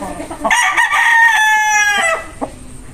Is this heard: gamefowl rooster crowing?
yes